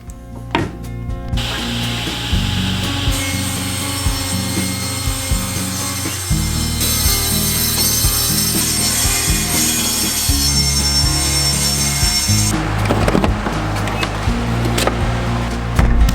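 A wooden board is cut to width with a power saw, with a steady close whine broken by brief pauses and shifts in pitch as the blade works through the wood.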